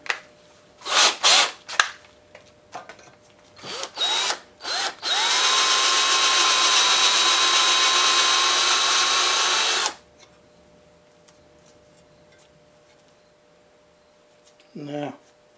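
A reversing power drill works on a Maytag 72 engine, first in several short loud bursts, then one sustained whine for about five seconds before stopping; a faint clank follows later.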